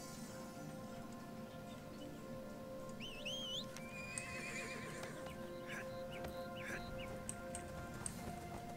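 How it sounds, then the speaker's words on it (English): A horse in the video game ArcheAge whinnies in rising, wavering cries over a low rumble, with scattered hoof clops and clicks around it. "I'm getting out my horse."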